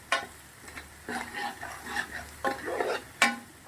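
A spoon stirs flour-coated green chillies for Gujarati sambharo in a pan, giving a series of scraping strokes over a light sizzle, close and fairly loud.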